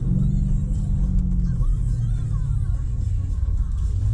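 A BMW M8 850i engine revs loud and close, a deep continuous rumble that rises and shifts pitch midway through, with no talking over it.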